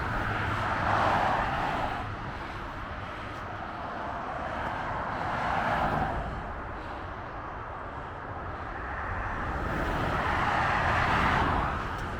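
Road traffic on a rural Wiltshire route near Mere swells and fades as vehicles pass at a distance, with a steady background rumble between three broad peaks.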